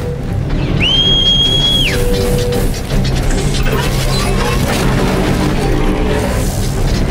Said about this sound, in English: So the whistling you're hearing was Guy calling for his mount to come.